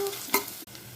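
Onions, green chillies and curry leaves frying in a pan for a small fish curry, a brief close sizzle with one sharp stir or scrape near the middle, then a short cut in the sound.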